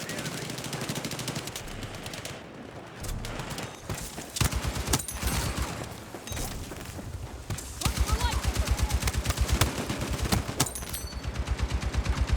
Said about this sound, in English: Just fire blindly into the smoke.